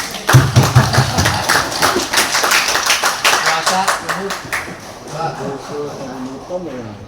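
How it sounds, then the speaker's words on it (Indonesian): Applause from the audience at a regency council plenary meeting in Pangandaran: a dense burst of clapping that stays loud for several seconds, then thins into scattered claps with voices underneath. "Tepuk tangan."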